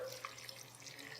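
Water running from a tap into a blender over cashews to make vegan condensed milk, a steady soft stream with faint dripping, quiet and continuous with no talk.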